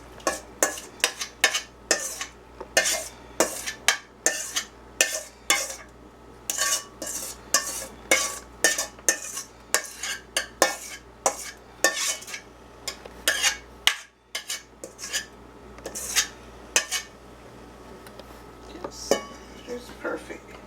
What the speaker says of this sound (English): Then I'm going to just go ahead on and transfer it into the baking dish.